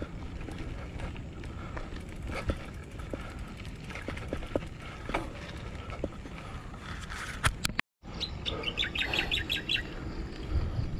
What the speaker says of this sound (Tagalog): Maranig mo yung huni ng ibon